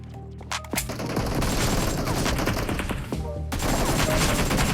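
Gunfire in the mobile battle-royale game BGMI played on a Poco X6 5G, rapid automatic bursts and booming shots filling the whole stretch, loud and close, with a brief pause before firing resumes.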